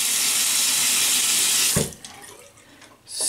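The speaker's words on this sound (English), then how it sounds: "let me just wash my face" A sink tap runs loudly and steadily for washing a face, then cuts off, leaving a short quieter stretch of drips and light splashing before the water briefly rushes again near the end.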